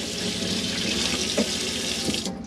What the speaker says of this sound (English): As long as the pump's on, you'll get a pressurised flow of water from the hot and cold side of the tap